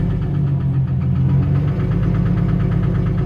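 A blown Infiniti G37 coupe engine idles with a rough, rhythmic knocking pulse running under its low steady rumble, close and continuous.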